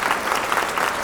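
An audience applauds to welcome Aghosh Menon, the hero of a film, at a stage event. Thick, continuous clapping fills the whole short moment, with a faint crowd murmur underneath.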